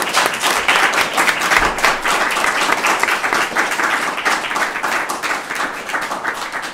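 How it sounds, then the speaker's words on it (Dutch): Warm applause from an audience at a literary talk on literature and activism, a dense, steady patter of many hands clapping for several seconds at an even level with no voices over it. "Ik wil als eerste een heel hartelijk applaus voor..."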